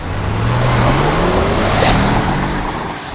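A twin-turbo Ford Explorer accelerates hard off the start on a rally stage, its engine note climbing loud and close over a short, steady surge of road and wind noise.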